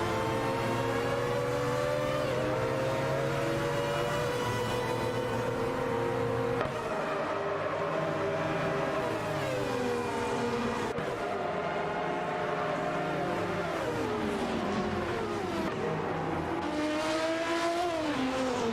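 Race cars in a racing video game accelerate hard off the start line, engines roaring loud and continuous with rising and shifting pitch as several cars rev through their gears together.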